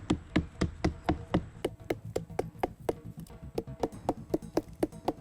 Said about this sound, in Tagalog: Para mas mabilis na lumabas ang katas, pinupukpok niya ang parteng ito ng puno.